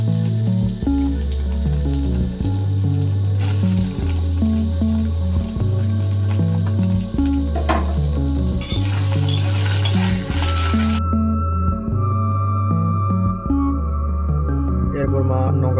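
Small carrot pieces sizzle in hot oil while being stirred, a steady frying hiss with utensil scrapes under loud rhythmic background music.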